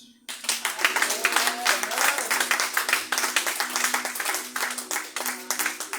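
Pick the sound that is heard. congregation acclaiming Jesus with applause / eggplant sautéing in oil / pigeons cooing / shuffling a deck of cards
congregation acclaiming Jesus with applause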